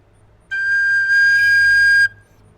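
A Tony Dixon DX001/DX004 tin whistle sounds one clear, steady note of about a second and a half, close and fairly loud, then stops into near silence.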